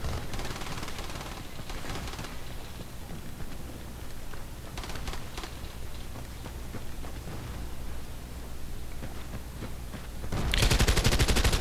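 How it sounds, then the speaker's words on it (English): Long-range gunfire in a shooter video game crackles as rapid, dense bursts over a steady noisy bed, with a louder, harsher burst near the end and no speech. "First long range shot with the gun."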